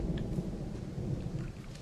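Steady low rumble of thunder from the video game Firewatch, a continuous deep roll at moderate loudness with no distinct cracks and no rain.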